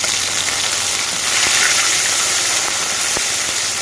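Ginger paste sizzles in hot oil with panch phoron, dried red chillies and bay leaves for khichuri, cooked outdoors in the Sundarbans; a steady, close, fairly loud frying hiss runs throughout with a few faint pops and no talk.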